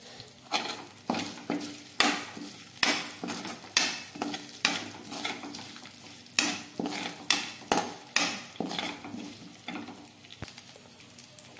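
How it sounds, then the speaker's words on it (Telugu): A tempering of mustard seeds, cumin, dried red chillies and curry leaves frying in oil in a kadai, heard as a low sizzle broken by loud, regular scrapes and clinks of a spoon stirring against the metal pan. "కడాయిలో ఆయిల్ వేసి కాగాక ఆవాలు, జీలకర్ర, ఎండుమిర్చి, కరివేపాకు వేసి బాగా ఫ్రై చేసుకోవాలి"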